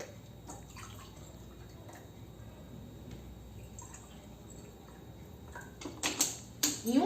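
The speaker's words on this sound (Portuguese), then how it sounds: "Eu estarei colocando água nesses 2 copinhos" Water trickles and drips into two small cups, with soft splashing throughout and a few louder liquid splashes near the end; no one speaks.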